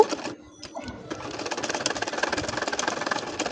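A sewing machine stitches a baby nakshi kantha quilt, running in a steady fast mechanical patter that pauses briefly near the start and then carries on close and continuous.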